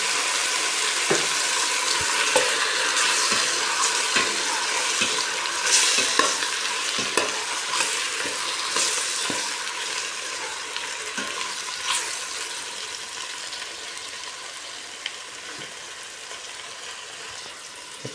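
Squid sautéing in a pan with green bell pepper and carrots, a constant bright sizzle with repeated clicks and scrapes of stirring, close and steady throughout.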